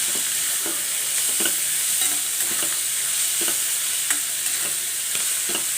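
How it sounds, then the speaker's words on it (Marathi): Spicy village-style green pea thecha with coriander is stir-fried in a pan. A loud, steady sizzle runs under regular scraping strokes of the spatula, about one every half second, with no voices. "मस्त कोथिंबीर टाकून मिक्स करून घ्यायचं"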